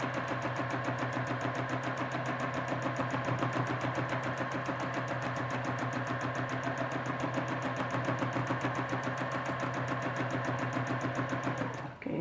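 A sewing machine stitches feathers on a quilt, a fast even mechanical chatter running continuously at close range for the whole stretch before stopping abruptly at the end.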